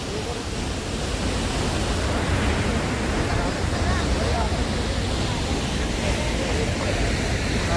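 Khedi waterfall on the Bhagirathi river along the Gangotri road pours with a steady, dense roar of rushing water, broadband and unbroken, heard up close with no pauses.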